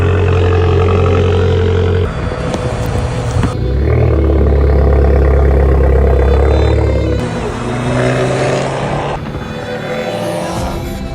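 An Abarth 595 Scorpion engine cold starts and revs, a gruff rumbling idle rising into loud throaty revs, then settling and climbing again, close by with no voices.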